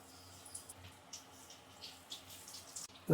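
Dough for a tea-shop fried snack bubbling in smoking-hot oil, a soft steady sizzle with scattered crackles at close range, no voices.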